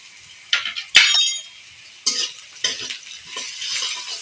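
Reddened onions and a spoonful of garlic paste fry in oil, giving sharp bursts of crackling sizzle and metallic clinks of a spoon against the pan, loud and close, with quieter stretches in between.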